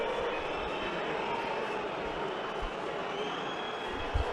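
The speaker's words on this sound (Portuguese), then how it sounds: "Vamos ouvir as vaias da torcida." São Paulo football fans in a stadium booing their team as it leaves the field, a broad sustained crowd roar at steady loudness with no pauses.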